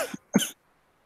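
Two short dry coughs from one person close to the mic, a quick pair separated by a brief pause, then silence.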